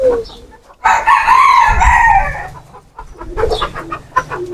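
A hen clucking after laying eggs, a loud drawn-out squawking call followed by shorter broken clucks, close by, with some faint background noise.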